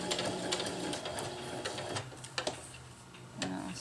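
A sewing machine stitching grosgrain ribbon onto a hammock tie-out, a close, quick run of ticking needle strokes with a few sharper clicks and pauses.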